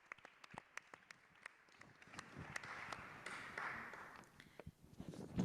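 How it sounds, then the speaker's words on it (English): Conference audience applause, quiet and distant, beginning as a few sparse claps and swelling into a soft, denser patter before trailing off. "A round of applause."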